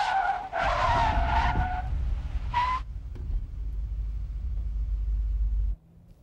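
A police-package car brakes hard from 50 mph without ABS, tires squealing in long loud skids for about three seconds, then a steady rumbling slide that cuts off abruptly as the car stops.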